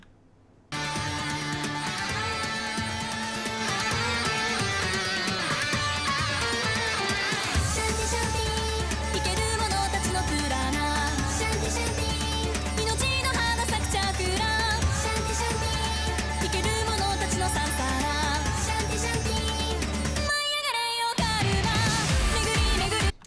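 A metal song with an Indian theme plays loud and dense with layered melodic lines; a heavy low bass drive enters partway through, then a short drop near the end before the music resumes.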